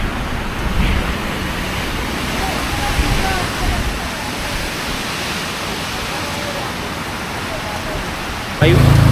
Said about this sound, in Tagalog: ang lakas ng ulan pala